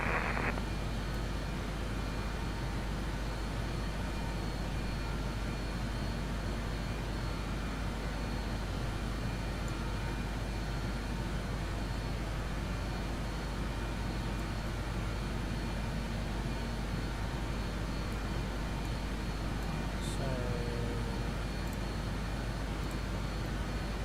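Airliner engine drone inside a flight simulator game: a constant broadband hum and rush with a low steady tone, unchanging for the whole stretch, with a faint brief chime near the end.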